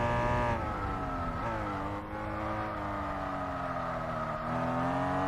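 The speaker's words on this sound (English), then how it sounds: "I like the sound of this. It's got a nice engine." A race car engine in Gran Turismo 4 revs and holds a steady, loud, harmonic-rich drone, with pitch dipping and climbing through gear changes while the car drives, and no talking.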